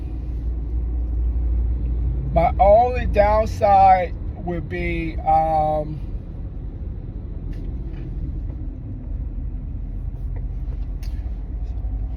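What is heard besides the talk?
car driving in traffic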